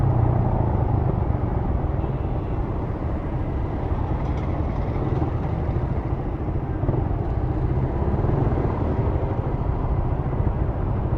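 A Raider motorcycle being ridden, producing a loud, continuous broadband engine and road roar that holds steady for the whole stretch without pauses.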